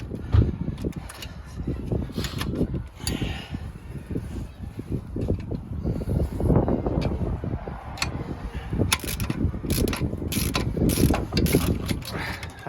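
Metal tools clank and ratchet in irregular bursts while the front wheel bearing comes off a 2008 to 2015 Toyota Avensis T270 2.0 D4D, with close scraping and knocking throughout.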